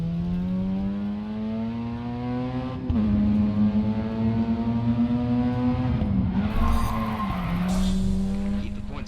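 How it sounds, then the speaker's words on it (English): A car drifts in the racing video game Grid 2, its engine holding a steady, loud drone that dips and rises as the tires skid and squeal through the slide, with no one talking. "Great drifting."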